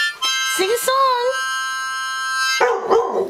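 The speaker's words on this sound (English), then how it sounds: "No, don't bark." A dog gives a few short barks and yips close by, then a long tonal howl-like note, with a voice briefly at the end.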